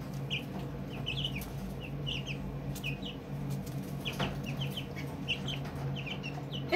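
Pet chickens in a backyard coop clucking and chirping repeatedly over a steady low hum, with occasional soft bumps and a brief flutter of wings, the clucks close and scattered in irregular bursts.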